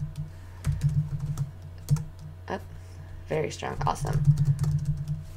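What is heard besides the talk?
typing a password on a computer keyboard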